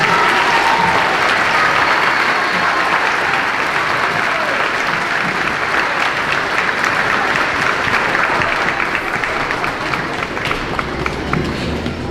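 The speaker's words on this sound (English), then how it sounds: "Let's give them a round of applause." Applause for fifth grade chorus members at a school moving-up ceremony: loud, sustained clapping from a big audience in a hall, continuous and dense with no pause.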